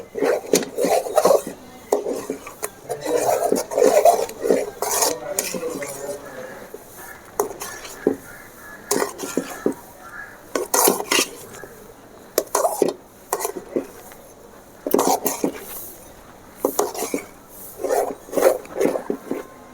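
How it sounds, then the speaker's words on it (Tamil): A spoon scrapes and knocks in a pan as rice milk halwa cooks down, irregular bursts of stirring and clinks under intermittent talk. "அரிசி பால் இந்த பதத்துக்கு வந்துட்டு நம்ம விடாமல் இதை கிண்டிகிட்டே இருக்கணும்"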